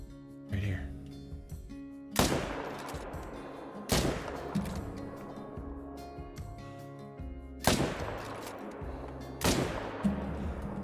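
Sharp rifle shots from the hunting game Call of the Wild as a doe is brought down: several loud, sudden cracks spaced a couple of seconds apart, each with a ringing tail, over a steady bed of game ambience.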